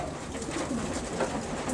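Soft, continuous pigeon cooing from a loft of pigeons, faint and steady at a moderate distance, no voices.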